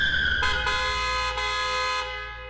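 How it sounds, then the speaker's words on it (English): A speeding car in a video game blasts its horn in a long harsh honk, broken by short gaps, loud and close before it trails off. "a speeding car honks angrily at me"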